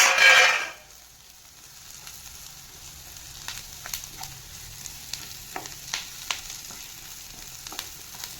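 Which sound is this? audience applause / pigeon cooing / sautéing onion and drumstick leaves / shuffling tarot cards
sautéing onion and drumstick leaves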